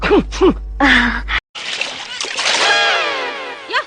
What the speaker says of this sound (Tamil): ஏன் என் மேல தண்ணி ஊத்துன?